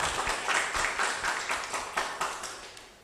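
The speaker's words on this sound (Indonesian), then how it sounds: "Beri tepuk tangan untuk calon nomor urut 1" An audience at a village head candidates' vision and mission reading claps for candidate number 1, a close, moderately loud burst of hand claps in a loose rhythm that gradually fades over about three seconds.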